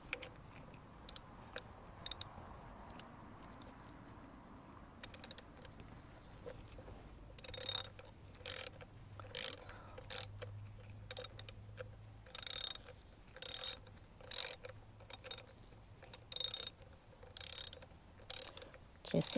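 Quick bursts of metallic clicking from a ratchet loosening bolts on a Honda GoldWing 1800 during a spark plug change, sparse at first, then repeated in rapid clusters, close and fairly quiet.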